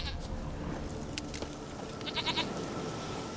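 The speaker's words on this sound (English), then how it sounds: "Here, goat." A goat bleats briefly and faintly in The Witcher 3: Wild Hunt on Xbox Series S, a short wavering cry that rises from quiet game ambience partway through.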